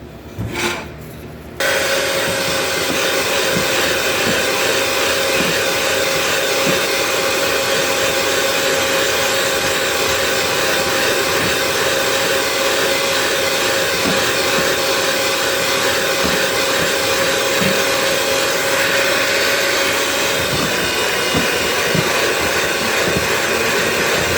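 An electric hand mixer creams powdered sugar and shortening for a conchas topping, a steady, loud motor whir that runs continuously for over twenty seconds with no talking.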